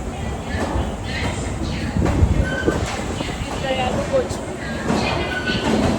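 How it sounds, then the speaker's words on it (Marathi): A train rumbles through a busy railway station on the way back to Pune, with steady broadband clatter and noise throughout and voices in the background. "आम्ही रेल्वे स्टेशनवर आलेलो आहोत आणि ही बघा ट्रेन."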